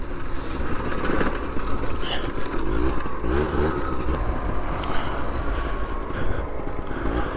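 Honda Zuma scooter on a dirt trail during a test ride, its engine a loud, steady drone that holds close and continuous throughout, with rough road and wind noise and no speech.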